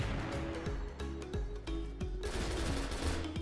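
Rapid shotgun blasts from a blue diamond shotgun in a shooter video game, fired in quick repeated bursts, loud and close, with dense overlapping reports and no talk.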